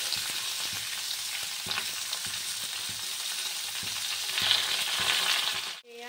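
Chicken and potato pieces fry in hot oil with a steady, dense sizzle close by, broken by faint soft knocks of stirring and a short clatter just at the end.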